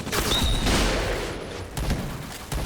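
MPT-76 rifle fire in the video game Point Blank: a rapid burst of sharp gunshots, loud and close, followed by a couple of single shots.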